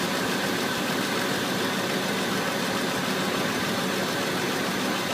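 A car engine idles during an automotive AC recharge, a constant dense mechanical hum with a slight vibration, steady throughout as the AC compressor runs; no one speaks.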